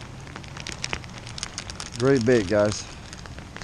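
Light rain patters with a soft, crackling texture at a Walmart pond while a man fishes for bass. Someone speaks briefly partway through.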